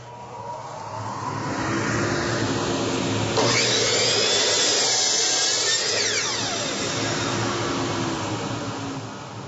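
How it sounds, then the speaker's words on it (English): A table saw's built-in dust collection system switched on by remote, a steady loud motorized whoosh with a low hum that ramps up and holds evenly, nearby and alone without talk. "I'll turn that on and it has built-in dust collection."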